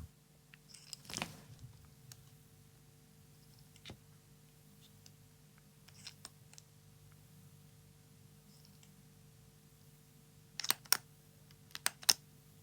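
Faint mechanical clicks from two Pilot Capless retractable fountain pens sound sparsely over a low steady hum, with a louder cluster of sharp clicks near the end.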